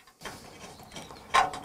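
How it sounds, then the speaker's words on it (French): A bolt and nut holding the plate of an aluminium sliding gate on a pillar are tightened, short ratcheting clicks in quick bursts, close and fairly quiet, with a louder burst near the end. "La platine étant parfaitement de niveau, je serre la fixation."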